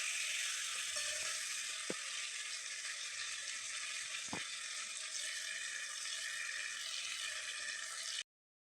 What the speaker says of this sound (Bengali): গ্যাসের ফ্লেমটা হাই টু মিডিয়াম রেখে আমি চিকেনটা ভালোভাবে কষিয়ে নেব।